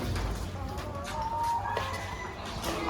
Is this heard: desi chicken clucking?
yes